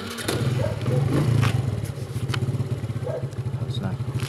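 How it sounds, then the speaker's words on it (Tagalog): A motorcycle engine starts and settles into a loud, close, throbbing idle with rapid regular pulses, along with some clattering and scraping nearby. "Start motor."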